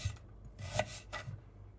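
A few quiet rasping knife cuts slicing a carrot into rings on a board, close and soft, with no voices.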